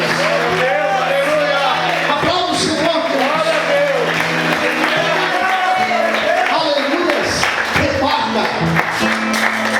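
Church congregation applauding during a sermon, a dense wash of clapping mixed with crowd voices and shouts of praise, sustained and loud throughout.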